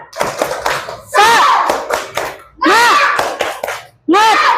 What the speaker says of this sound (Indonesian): Kita ice breaking sekali lagi. Tepuk semangat.